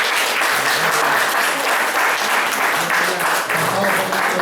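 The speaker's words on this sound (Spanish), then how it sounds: "le damos un aplauso." A church congregation at a Sunday service claps together, a steady, dense wash of applause that fills the room without letup, with faint voices mixed in underneath.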